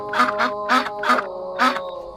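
A man mimics a duck with his voice, giving five short nasal quacks in two quick pairs and then a single call, loud and close against a quiet background.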